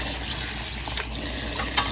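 Tap water running steadily over rice noodles being rinsed in a kitchen, a close, continuous hissing splash with small shifts as the noodles are stirred.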